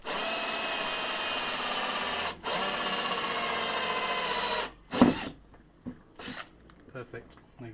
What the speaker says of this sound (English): let's put the drill bit that you get with it on now